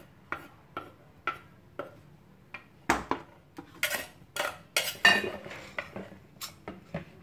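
A plate and utensils handled in a Thai kitchen while pounding som tam, a series of sharp ceramic clinks and knocks, evenly spaced at first and then quicker and louder clattering as the dish is set down.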